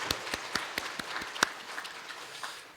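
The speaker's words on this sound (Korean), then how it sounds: "우리 하나님 앞에 영광의 박수 올려드리겠습니다." A church congregation claps during a Sunday worship service, a few distinct sharp claps at first that thin into scattered, fading hand claps.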